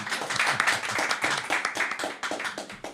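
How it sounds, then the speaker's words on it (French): An audience claps for a guest introduced on a dental-prosthesis talk show, a steady moderate round of applause heard alone, slightly distant. "On peut l'applaudir."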